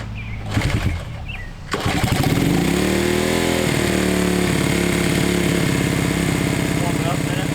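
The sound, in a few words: 1971 Honda CB100 motorcycle engine cold start and idling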